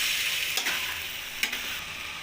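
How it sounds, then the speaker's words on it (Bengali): Chicken pieces are stirred and fried in a spice masala in a pan, giving a steady sizzle with two brief scraping stirs. "এবার আমি চিকেনটা দিয়ে দেবো। চিকেনটা দিয়ে মশলাটা ভালো করে কষিয়ে নেব।"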